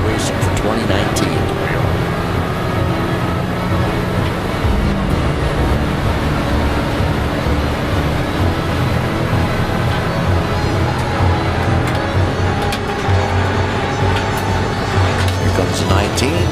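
Race cars, including an Audi TT 225, roaring around a circuit during the final lap of a bracket race, a constant loud engine drone with passing cars rising and fading, under continuous commentary.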